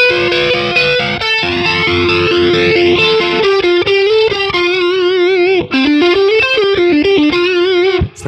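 Electric guitar played through the Neural DSP Archetype Tom Morello amp plugin, heavily processed with a swirling, phaser-like modulated distortion. Sustained chords and single notes ring out loud and continuous, with no talking.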